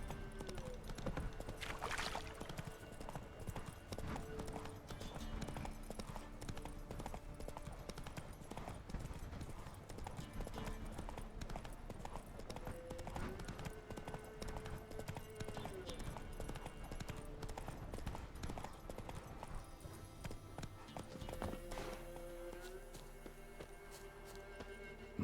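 Roach, a horse in The Witcher 3, trots with a steady run of rhythmic hoof clip-clops throughout, while a voice talks now and then over ambient game sounds.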